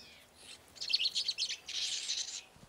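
Small Galapagos finches chirping in quick high tweets, some in a rapid run and then a steadier trill, over a soft outdoor background.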